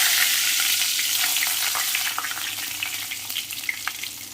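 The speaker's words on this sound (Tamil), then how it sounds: "இப்போது காஞ்ச மிளகாய் கருவேப்பிலையும் சேர்த்துக்கலாங்க." Dried red chilies and curry leaves hit hot oil for milagu kuzhambu, a loud bright sizzle that settles into steady crackling with scattered pops.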